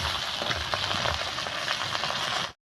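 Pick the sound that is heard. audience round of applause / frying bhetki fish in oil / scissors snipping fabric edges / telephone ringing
frying bhetki fish in oil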